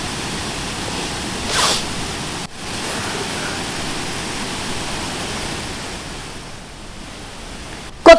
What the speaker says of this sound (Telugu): ఎగువన కురుస్తున్న వర్షాలకు ఉధృతంగా ప్రవహిస్తోంది కొత్తపల్లి జలపాతం